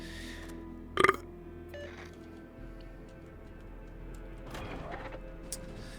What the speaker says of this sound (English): Excuse me, I had to fucking burp there